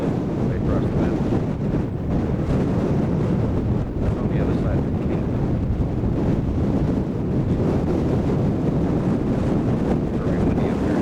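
Steady, loud wind buffets the microphone in a continuous rumbling roar on a cold mountain ridge, with a voice briefly speaking underneath.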